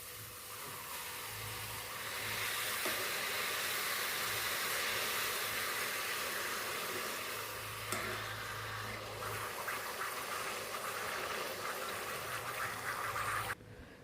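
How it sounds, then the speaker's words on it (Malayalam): Sesame pappadam frying in hot oil gives a loud, steady close sizzle that hisses continuously for about thirteen seconds before stopping abruptly. "ഇനി നമ്മുടെ എള്ളു പപ്പടം ഒന്ന് കാച്ചി നോക്കാം"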